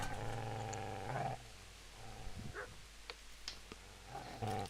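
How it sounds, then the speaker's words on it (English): In Kingdom Come: Deliverance, a dog snarls and growls in low, rough bursts, first sustained and then in shorter broken snatches, fairly faint amid a quiet background. "No wonder I could hear a dog"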